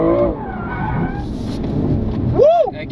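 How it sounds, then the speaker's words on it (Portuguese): A BMW M2 Competition drifts with its engine roaring and a loud, rising-and-falling tire squeal near the end, while a voice talks over it. "Mas ela é boa pra fazer drift, mano. Boa, é um baita carro pra fazer drift"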